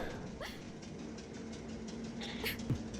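A train runs steadily, heard from inside a railway compartment: a continuous rumbling wash of noise with faint rattles and clicks, fairly quiet and with no talking.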